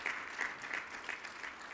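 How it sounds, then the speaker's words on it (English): Fairly soft, steady applause from a seminar audience at a tobacco industry legislation event, an even patter of many hands with no speech over it. "a round of applause to you guys"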